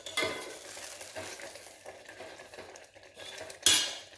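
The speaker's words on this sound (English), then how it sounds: "Now I'll add the tempering into it. I'll just give it a thorough mix." A spoon stirs puli inji in a pan after tempering is added, with close scraping and clinking of metal against the pan, a soft sizzle underneath, and a sharp clank near the end.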